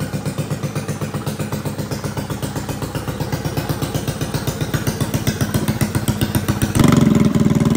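A Predator 212cc small engine with a stage 5 head runs loud and close, its choppy idle firing in an even rapid rhythm before it revs up sharply near the end.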